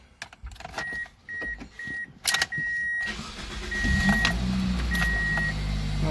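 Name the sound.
car starter motor cranking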